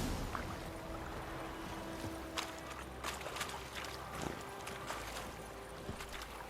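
Roach the horse galloping in The Witcher 3 video game, quick rhythmic hoofbeats under a low steady rumble, moderate and continuous throughout.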